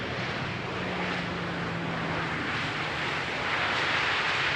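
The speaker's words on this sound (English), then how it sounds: "Now here another textbook KLM landing" A KLM airliner landing on runway 18R at Amsterdam Schiphol, heard from a distance as a steady broad jet roar with a faint engine whine, continuous and fairly quiet throughout.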